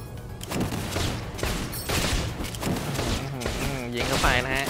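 Gunfire in the mobile battle game Extraordinary Ones: rapid bursts of shots and thumping impacts, mixed with bright skill effects and warbling tones, under someone talking.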